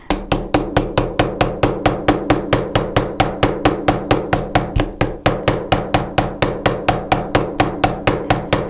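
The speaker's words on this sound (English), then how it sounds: "It's not so much about the force as it is about striking and repetitive hitting." A hammer strikes a metal pendant in a fast, steady rhythm, about five sharp, ringing taps per second, close and loud with no talking.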